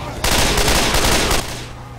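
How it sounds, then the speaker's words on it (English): Grenade launcher fire in the Left 4 Dead 2 video game, a loud blasting burst of gunfire and explosion lasting about a second, followed by a lingering low rumble. "Ooh, grenade launcher."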